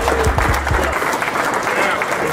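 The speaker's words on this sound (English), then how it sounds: "Let's give both groups a round of applause." Audience applause for two groups at a sales meeting, a dense wash of clapping with scattered voices and a few low thumps at the start, steady and fairly loud throughout.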